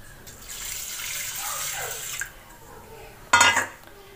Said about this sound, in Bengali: আমি জল দিয়ে দিলাম, জল দিয়ে আধা ঘন্টার জন্য এটা আমি ভিজিয়ে রেখে দেবো।